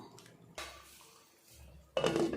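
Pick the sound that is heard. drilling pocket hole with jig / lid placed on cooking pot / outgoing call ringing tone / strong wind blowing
lid placed on cooking pot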